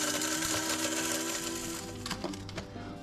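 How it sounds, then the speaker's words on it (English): Whole spices for a chicken pilau spice mix, including curry leaves and dried red chilies, ground in an electric grinder: a steady, loud mechanical whirr with rattling and crunching throughout, no voices. "And they're all going to go into my spice mix, and I'm going to grind them."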